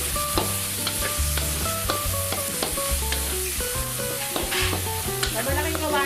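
Carrots, sweet corn and green peas are stir-fried in a large wok for tocino fried rice, with a steady sizzle and repeated stirring scrapes heard under loud background music.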